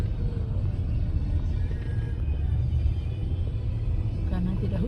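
Road traffic in a slow-moving jam after breaking the fast, a steady low rumble of car engines and tyres heard from inside a vehicle, with people talking over it throughout.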